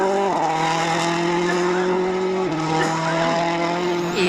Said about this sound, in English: You can hear there his gear selection problems have returned